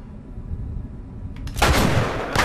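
Machine gun fire in The Last of Us on PS4: after a quiet low rumble, a sharp loud burst of automatic shots erupts, followed by a second short burst.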